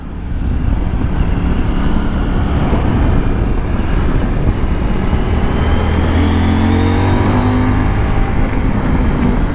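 A CF Moto 800MT adventure motorcycle, a 95-horsepower bike, accelerates hard on a road, its engine note loud and close, climbing steadily in pitch through a gear change amid strong wind rush.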